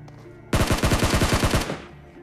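Rapid automatic gunfire in the PUBG Mobile battle royale game, a loud burst of around a dozen evenly spaced shots lasting about a second, standing out sharply from a quiet background.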